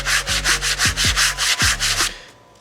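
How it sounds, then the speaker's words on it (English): A 220 grit sand block is rubbed over a plastic engine cover in about ten rapid, rhythmic back-and-forth strokes, each a loud, close scratchy swish, before stopping. "I'm going to take my sand block and just go over it lightly."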